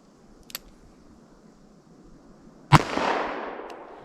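A single sharp gunshot from a .38 or .44 Special revolver firing semi-wadcutter bullets, fired outdoors in wet snow, with a loud crack and a long rolling echo after it, and a fainter pop a couple of seconds earlier.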